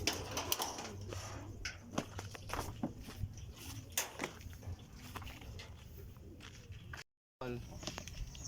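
Racing pigeons arrive at a loft after a race lap, with wingbeats, light scuffling and soft cooing among irregular clattering knocks, while someone talks over the activity nearby.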